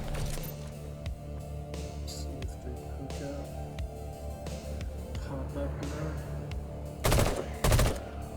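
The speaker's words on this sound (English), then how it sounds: "burst rifle, is it? It locks on, yeah." Video game burst rifle fire from a fantasy action game, rapid loud bursts of shots near the end over continuous in-game music and effects, with a voice talking throughout.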